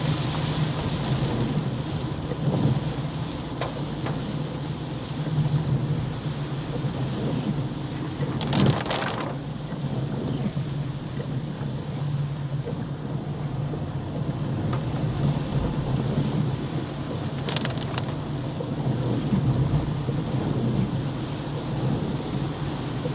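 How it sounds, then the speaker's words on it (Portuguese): Heavy rain pours steadily in João Pessoa amid street flooding, a dense continuous hiss with occasional louder splashes and rumbles, no voices heard. "E tá chovendo muito, tá cheio de alagamento aí"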